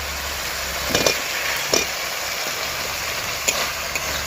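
Fried potatoes stirred into spiced masala in a pan, steady sizzling frying with a few louder scraping stir strokes, close and continuous under a low background hum.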